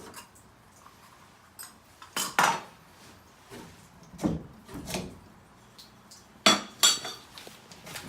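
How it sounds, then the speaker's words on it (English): Metallic clinks and scrapes while a Moen shower escutcheon plate is taken off: several sharp, close knocks and rattles in irregular bursts, with quiet gaps between them. "Next is going to be the escutcheon plate. We're going to take it off."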